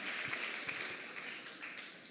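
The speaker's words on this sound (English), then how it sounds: "Can we have another round of applause for such a coordinated and well synchronized performance?" Audience applause follows a large group's student performance at a TED-Ed student talks event: a soft, steady wash of clapping that holds for about two seconds, fairly distant and fading slightly toward the end.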